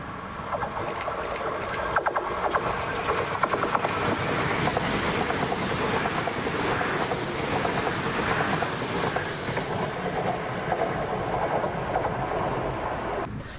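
A ScotRail Class 334 electric multiple unit passes at Bowling with a continuous rolling rumble and rhythmic clickety-clack of wheels over rail joints, loud and close throughout, with no voices.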